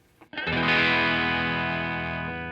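Bass notes on an electric guitar driven through a Catalinbread Karma Suture fuzz pedal, one thick distorted chord struck after a brief pick noise and left to ring and slowly decay, loud and alone.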